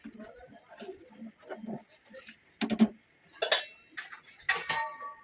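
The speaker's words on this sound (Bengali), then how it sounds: "এটা একটু আমি নেড়ে দেবো, ঘিটা নেড়ে দিয়ে" A spoon stirs ghee through khichdi with green chillies in a pan, making irregular metallic clinks and scrapes against the pot with short quiet gaps between bursts.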